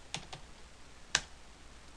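Keys clicking on a computer keyboard, a few sparse, crisp taps close by in a quiet room, with a pause between them and no talking.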